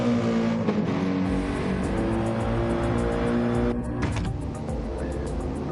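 A GR3 race car in a sim racing game drones steadily at high revs, its engine note holding loud and sustained with brief tonal shifts, heard alone without voices.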